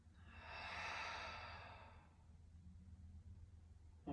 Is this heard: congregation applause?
no